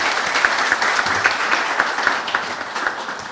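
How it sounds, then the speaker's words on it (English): An audience at a graduation ceremony for an online work training cohort in Dominica gives a steady, even round of applause. The dense clapping holds at a constant level throughout, with no talk over it. "I would like you to join me in a round of applause."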